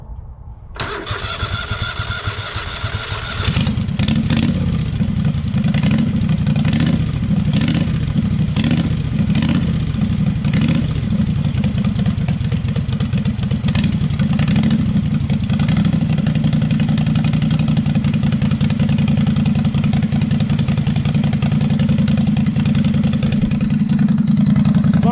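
A V-twin engine on a Wheel Horse garden tractor cranks briefly, then catches and runs with repeated rev bursts before settling into a steady, loud idle close by.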